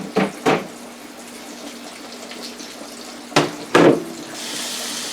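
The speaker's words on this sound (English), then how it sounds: "Washing my hands." Kitchen tap running while hands are washed after deep frying. A few short splashes come first, then the water flows in a steady, close stream toward the end.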